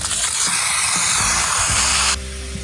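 Fake blood blasts through a hose from a homemade squib rig in one loud, close spray lasting about two seconds, a broad hissing rush that cuts off abruptly, followed by a faint residual hiss.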